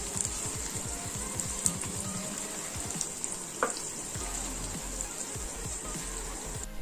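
Tempering spices (popu) sizzling and crackling in hot oil in a pan for a Telugu dosakaya roti pachadi, with a steady close frying hiss and scattered pops, the stove just switched off.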